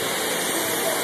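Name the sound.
Congo River waterfall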